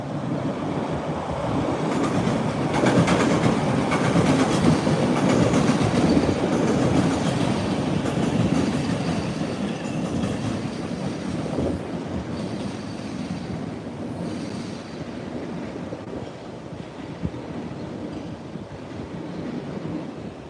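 A subway train passes at Forest Hills station with a loud, continuous roar and rumble, swelling early then easing slightly, with faint clacking and wind buffeting.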